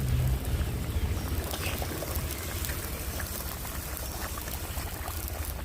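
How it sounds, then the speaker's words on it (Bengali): Chopped chillies tipped into a hot pan for a village-style bitter gourd dish, setting off a loud, continuous sizzle and crackle of frying that holds steady throughout. "এবারে দিয়ে দেব কেটে রাখা লঙ্কাগুলো"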